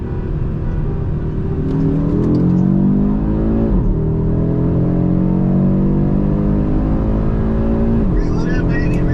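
An Audi RS3 and a BMW M340i xDrive accelerate hard at full throttle in a roll race, heard from inside one car as a loud, continuous rising engine note with gear shifts and speech over the top.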